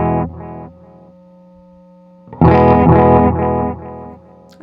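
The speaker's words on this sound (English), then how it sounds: "Adds a low pass envelope filter applied to the repeat." Electric guitar through a Walrus Audio Mako D1 delay pedal with its low-pass tone filter on the repeats: a soft picked phrase with darkened echoes, then a louder strummed burst whose repeats trail off, close and without talk.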